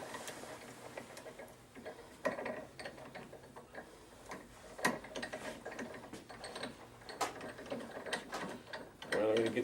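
A socket wrench ratchets on a motor being rebuilt, giving quiet, irregular bursts of fast mechanical clicking with small knocks and handling noises in between.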